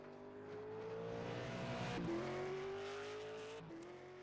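A race car in a racing video game drives steadily around the Oulton Park Grand Prix circuit, its engine holding a continuous whining drone that dips briefly during a gear change and rises again.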